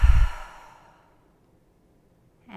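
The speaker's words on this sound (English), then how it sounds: "let's pause and take a really nice, deep, slow, conscious breath" A single deep, slow exhale during a guided breathing exercise, close and soft, fading out gradually into near silence.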